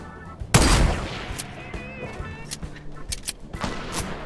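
A single sharp sniper rifle shot cracks out loud and close in a video game sniper duel, followed by faint clicks and light handling noises.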